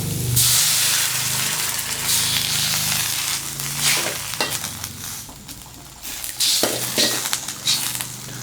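Plain water poured into a hot wok of Thai seafood noodle vegetables hisses and sizzles loudly in a bright steamy burst, then settles into bubbling and stirring scrapes.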